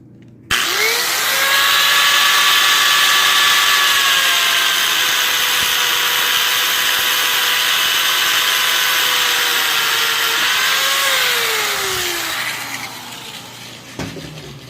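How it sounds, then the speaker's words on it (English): A cutoff wheel cuts through stainless steel braided rubber hose. It makes a loud, steady high-pitched grinding whine that runs about twelve seconds with slight pitch shifts, then winds down, close up and with no talking. "I'm using a cutoff wheel for 2 reasons. It's stainless steel, it doesn't fray, and it won't melt the hose too well."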